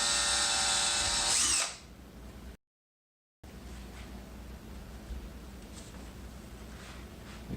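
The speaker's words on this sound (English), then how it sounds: "drill the whole center of the mark" A power drill whines loudly and steadily at close range while drilling holes in a 6.5-inch speaker pod for a 1998-2012 Ford Crown Victoria. The drill cuts off sharply, and after a short gap only low room noise remains.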